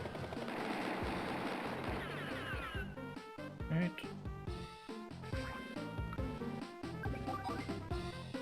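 Gunfire in Advance Wars 2: Black Hole Rising comes as dense, rapid bursts of retro game shots and crashes, repeating in choppy volleys with music beneath and someone talking over part of it.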